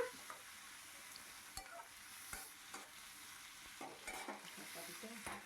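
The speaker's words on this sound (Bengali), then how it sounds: "এবার পেঁয়াজের সাথে সুন্দর করে ওপর নিচ নাড়াচাড়া করে নিচ্ছি" Onions with salt and turmeric being stirred and turned in a frying pan, with soft sizzling and repeated scraping strokes of a spoon against the pan, close and fairly quiet.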